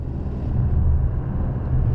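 Porsche Cayenne Coupe Turbo driving on a test track, a steady low engine and road drone held at an even loudness throughout, close and continuous with no voices.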